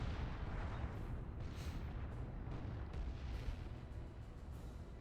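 Artillery shells landing in the video game Dawn of War 2, a continuous low rumbling barrage of deep, overlapping booms, steady and fairly loud throughout with no talking.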